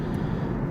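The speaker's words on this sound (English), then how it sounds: "in the background you might hear the helicopters" A steady, droning helicopter rumble fills the background near a Hawaii lava flow, continuous and even, with no voices.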